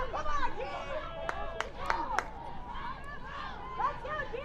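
Westfield football fans in the stands raise a steady, fairly close roar of mixed voices and shouts, urging on their defense on a fourth-and-one play, with a few sharp claps or bangs cutting through.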